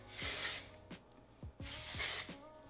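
Two long hissing bursts of aerosol texturizing hairspray by the brand Way, close up, with a few soft clicks and rustles between them.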